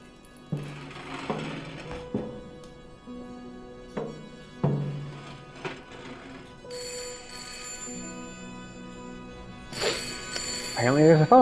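Telephone ringing inside the Layers of Fear (2023) video game, a repeating electronic bell tone with bright bursts over eerie ambient sound, footsteps and clinks, moderately loud and close.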